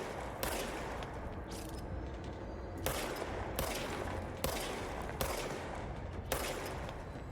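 Bursts of gunfire from a gun in the video game Control, roughly six sharp volleys spaced about a second apart over steady low background rumble, loud and close.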